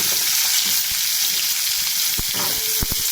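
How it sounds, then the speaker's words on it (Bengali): Turnip and potato pieces frying in hot oil tempered with radhuni seeds, a steady close hiss of sizzling with a few sharp stirring taps and clinks near the end. "তো তেলটা আমার গরম হয়ে গেছে, রাঁধুনি ফোড়ন দিয়ে দেওয়া হলো। তো শালগম আর আলু দিয়ে দেওয়া হলো।"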